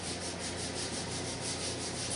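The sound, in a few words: sanding the wooden sides of a DIY guitar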